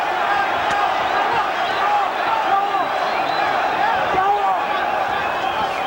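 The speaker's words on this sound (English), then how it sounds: "With the crowd yelling, Mexico," A boxing arena crowd chants and roars during the twelfth round of Rafael Marquez versus Mauricio Pastrana, a steady loud wall of voices with a commentator talking over it.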